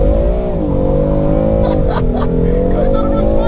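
A car launching hard from 4,000 RPM, the engine holding a loud, steady high-rev drone that dips and rises as the tires break loose, with brief squeal-like bursts mid-run.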